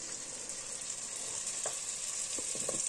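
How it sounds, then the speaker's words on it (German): Hungarian langos dough frying in hot oil, a steady close sizzle and crackle running throughout with a few louder pops and bubbling bursts near the end, no voices. "Da kommt er schön ins Öl rein und darf schön wachsen."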